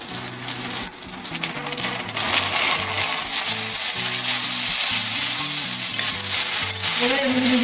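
Onions and ginger-garlic-green-chili paste frying in hot oil. A loud, continuous, crackling sizzle with occasional stirring clinks, steady throughout and heard close up.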